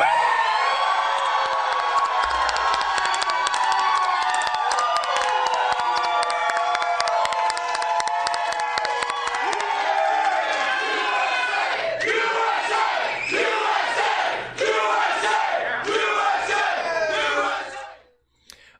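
A gym packed with people cheers and shouts together, a loud sustained roar of whoops and cries that swells and then cuts off near the end.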